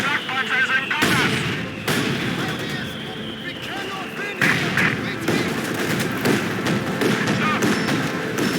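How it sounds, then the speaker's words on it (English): A Flak 43 anti-aircraft gun fires in Company of Heroes 2, with repeated heavy thumping shots over dense battlefield rumble and scattered combat noise. "Get that Flak 43 firing."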